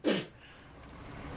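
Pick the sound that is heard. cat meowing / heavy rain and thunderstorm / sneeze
sneeze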